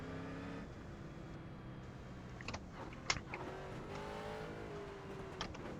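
A video game street stock race car engine at Stafford, sounding faulty, whines and shifts pitch steadily, with a few sharp knocks and clicks over the drone.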